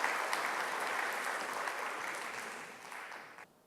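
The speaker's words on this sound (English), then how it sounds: "I think they deserve another round of applause for such a wonderful, wonderful performance" Sustained audience applause after a performance at the opening of a conference on accessibility for diverse communities in cultural institutions, a steady dense patter of many hands that tapers slightly and cuts off near the end.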